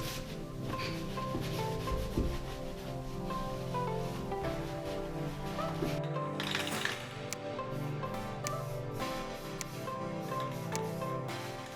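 Rubbing and wiping against a truck cab's metal panel with Super Clean cleaner before painting, a steady scrubbing texture throughout with a few sharper scuffs and a brief hiss around the middle.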